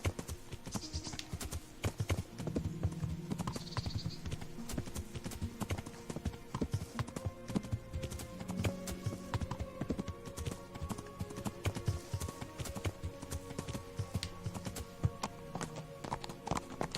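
Steady clip-clopping hooves of a horse being ridden in the medieval game Kingdom Come: Deliverance, a continuous close rhythmic trot layered over ambient outdoor game sounds.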